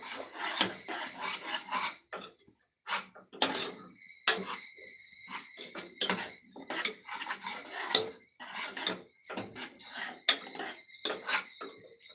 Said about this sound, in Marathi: हे सगळे मसाले मी परतून घेते